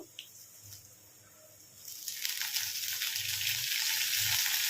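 Spices for karam podi fry in a pan, starting as a low, quiet crackle with soft stirring taps before rising after about two seconds into a steady, close sizzle.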